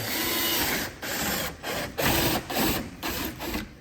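A power drill grinds loudly through a hole on a Polaris Xpedition, guided by a bracket, its harsh whir broken by several brief, regular pauses as pressure eases and resumes.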